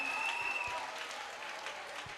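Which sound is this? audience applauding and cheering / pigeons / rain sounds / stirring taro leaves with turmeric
audience applauding and cheering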